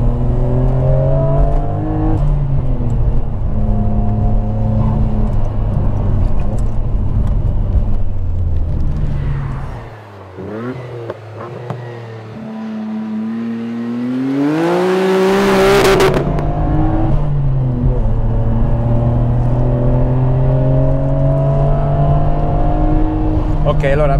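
A Nissan Skyline GT-R R34 V-spec engine revs and pulls through the gears while driving uphill, a loud throaty drone with one shift dip midway and a sharp rising surge, and people talk over it from inside the car.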